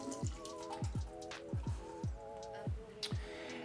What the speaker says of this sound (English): I've opened up this can of jackfruit, and I'm just going to drain it into the sink